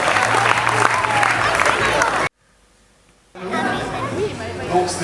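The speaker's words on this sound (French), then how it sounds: "On peut l'applaudir." A crowd at a 2025 sports awards ceremony at La Passerelle in Florange applauds loudly amid chatter; the sound cuts to near silence for about a second, then clapping and murmuring voices return.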